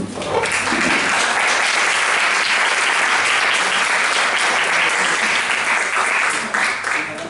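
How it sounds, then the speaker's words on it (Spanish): An audience gives loud, sustained applause as a book's author is introduced at a talk, dense and steady clapping throughout with no pause. "Un fuerte aplauso."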